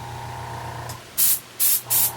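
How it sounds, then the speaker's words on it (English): A spray can mists red paint onto a Michael Myers mask in three short, loud hissing bursts, each about a quarter second long, coming after a low steady hum. "actually I'm going to mist it with a little red"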